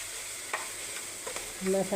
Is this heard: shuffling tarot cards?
no